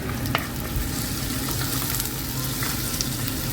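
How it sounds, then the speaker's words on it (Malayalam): Onions with Kashmiri chilli masala sauté in a pan: a close, continuous sizzle with scraping stirs and a few small crackles. "വഴന്ന് വന്നുകൊണ്ടിരിക്കുന്നു"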